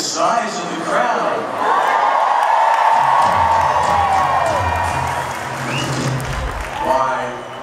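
A huge stadium crowd at a concert at Fenway Park in Boston roars and cheers continuously, with applause and whoops swelling and fading, while voices carry over the noise.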